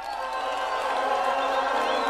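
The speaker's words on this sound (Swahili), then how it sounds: "Mpigeni makofi John Mbadi." Crowd at a Kenyan political rally clapping and cheering for John Mbadi, a steady, dense wash of applause and voices that holds at an even level throughout.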